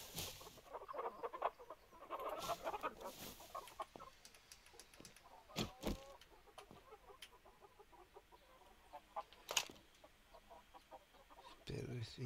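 A chicken clucks in the survival game 7 Days to Die, soft, scattered clucks over a quiet ambient background with a few sharper sounds, a voice speaking briefly.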